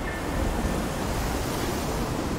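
Sea waves wash onto an island shore in the video game Chronos: Before the Ashes, a steady broad rushing surf that stays even and fairly close throughout, with no voices.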